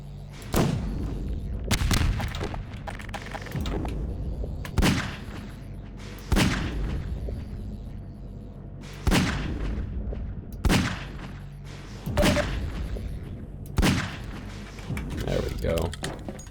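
Repeated booming blasts from grenades in the Half-Life 2 shooter, about six heavy impacts spaced a second or two apart, loud and close, layered over steady game background noise.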